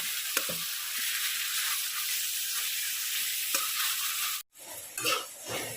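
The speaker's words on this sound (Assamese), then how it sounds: "এতিয়া ইয়াতে মাংসখিনি বহাই দিম আৰু ভালকৈ লাৰিম।" Mutton pieces sizzle and fry in a hot pan with spices, a steady broadband hiss broken by a few scraping stirs, a short silence near the end, then renewed clattering stirs.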